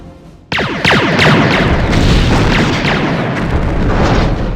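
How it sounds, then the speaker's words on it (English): Torpedo and disruptor weapon impacts in the Star Trek: Bridge Commander space combat game, a sudden loud blast after a brief quiet start, followed by a rumbling, sweeping barrage of booms that holds strong to the end. "And get a face full of torpedoes, or disruptors rather"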